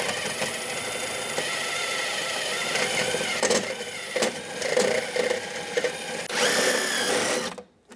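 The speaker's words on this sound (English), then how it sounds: "We're going to drill out the head of our rivet." A power drill bores out a rivet head holding an interior door handle lever on a 1988-1999 GMC K1500 truck door, a sustained close whine with metallic grinding that stutters and changes pitch before cutting off abruptly.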